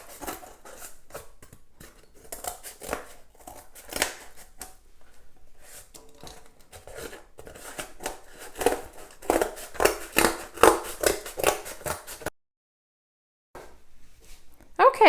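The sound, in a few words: scissors cutting out a cardboard mask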